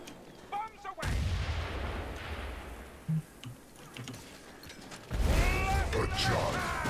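Explosions from bombs in a first-person shooter game burst loudly twice, one at the start and another about four seconds later, each a broad rumbling blast with scattered gunfire and clatter between them.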